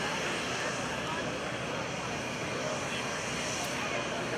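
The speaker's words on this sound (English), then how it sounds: "there you go on short final. Jim Tobul and the Korean War hero F4U Corsair" An F4U Corsair, a Korean War-era propeller warplane, flies on short final at an air show, a steady broadband engine roar that holds loud and even throughout, with a crowd announcer talking over it.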